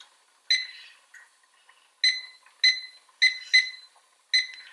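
Short electronic chirps from a kitchen timer being set, scattered irregularly in ones and pairs, close and fairly quiet in a silent kitchen.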